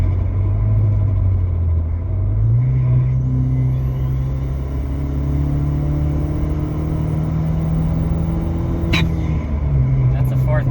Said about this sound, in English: that's a 4th gear, hard acceleration